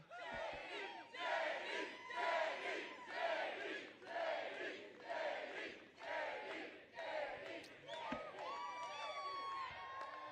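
Crowd at a campaign rally in Marne, Michigan cheers and shouts in repeated loud surges lasting the whole stretch, with brief dips between waves of noise and no clear speech over it.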